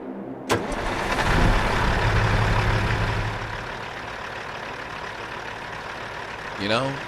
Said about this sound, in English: let's check out how the truck sounds, because I haven't heard this thing start yet